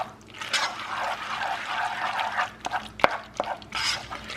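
Cheesy sauce being stirred into Stouffer's Supreme shells and cheese, giving wet, squelching swirls and soft scraping in uneven waves, with one sharp spoon knock near the end and no voices.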